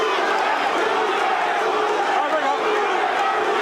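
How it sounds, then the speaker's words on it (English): Boxing arena crowd during the Roberto Duran vs Iran Barkley fight, a dense, steady roar of many voices rising into a sustained chant, loud and continuous throughout. "the crowd picks up the chant of Duran's name"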